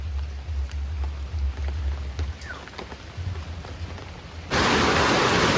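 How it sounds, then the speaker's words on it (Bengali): Rain falls in a steady, close wash of patter, with a low rumble underneath during the first part, then swells abruptly into a louder, fuller roar near the end; no one speaks. "বৃষ্টির আওয়াজটা শুনলে মনটা একদম ভরে যায়।"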